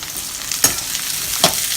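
Drumstick, potato and carrot sautéing in a pan give a continuous close sizzle, broken by two sharp scraping stirs of a spatula against the metal.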